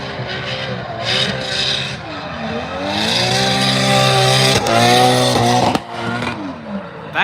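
Drift car number 77 at Ebisu Circuit revs hard and loud through a fast run, engine pitch sweeping up and down between throttle blips, with tire scrape and squeal layered in. Up close and continuous, no talk over it.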